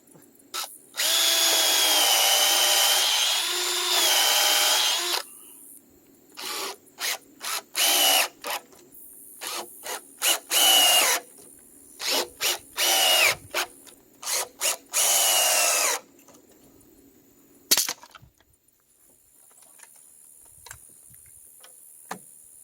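Power drill driving screws into clamped wood timbers for a well house base, with a long steady whir followed by many short bursts of trigger revving and ratcheting ticks, then a quieter stretch.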